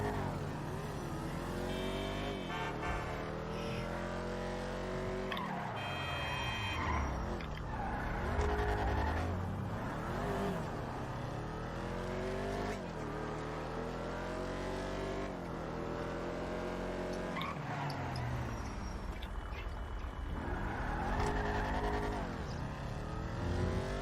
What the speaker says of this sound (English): Braking, emergency stop.